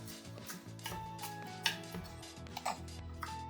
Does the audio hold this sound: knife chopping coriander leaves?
yes